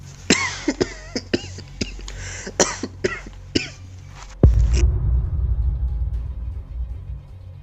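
A man coughs repeatedly in a room, about ten harsh, close coughs in an uneven rhythm, followed by a low rumbling that fades.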